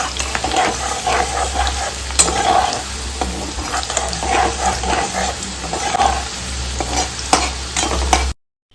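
Taro (kochu) fries in hot oil in a home kitchen, a steady close sizzle with scraping stir strokes throughout and no voices.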